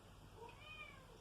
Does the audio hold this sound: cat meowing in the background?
yes